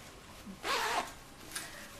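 A single quick zipper pull, a brief rasping zip of fabric lasting under half a second, close and clear against a quiet background.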